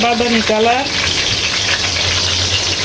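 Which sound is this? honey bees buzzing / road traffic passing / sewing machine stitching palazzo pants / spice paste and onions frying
spice paste and onions frying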